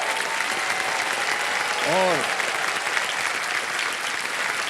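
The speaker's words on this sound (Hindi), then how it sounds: "तालियां बज जाएं के लिए" Studio audience on a TV quiz show bursts into loud, sustained applause that fills the room, with a man's brief word heard over the clapping.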